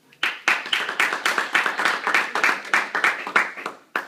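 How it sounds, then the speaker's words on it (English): An audience claps in quick, even bursts before a children's play of Cinderella begins, a steady run of close, bright hand claps with no talk over them. "Let's clap for the Princess Cinderella, her evil stepmother, and her 2 disgusting stepsisters."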